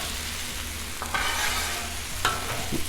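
Beef noodle stir fry sizzles hot on a Blackstone griddle, a steady loud fry punctuated by a few sharp scraping clatters of a spatula stirring the food, with no voices.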